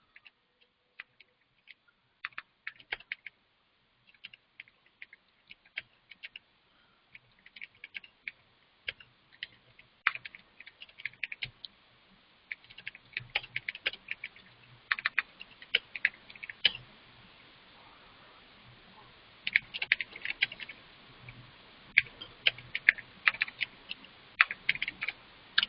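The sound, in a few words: typing on a computer keyboard while writing notes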